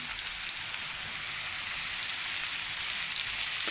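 Okra (bhindi) frying in a pan with onion added, a steady bright crackling sizzle like light rain, continuous and even throughout, nearby with no voices.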